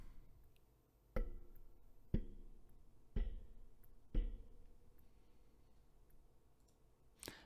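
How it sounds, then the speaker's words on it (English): Four distinct light taps on a microphone boom arm, roughly a second apart, each with a short metallic ring, then a quiet pause and one final faint click. "Light tapping on the boom arm."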